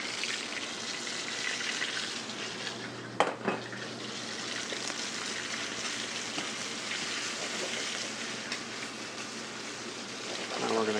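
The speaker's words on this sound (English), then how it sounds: "The crabs are cooked in a preheated cast iron skillet with a 1/2 inch of canola oil." Crabs fry in half an inch of canola oil in a preheated cast iron skillet, giving a steady hissing sizzle throughout with one sharp crackle or pop partway through.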